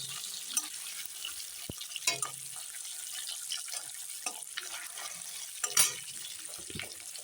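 Eggs frying in oil seasoned with turmeric and salt give a soft, steady sizzle, broken by a few light clicks and scrapes from the pan and utensil; no one speaks.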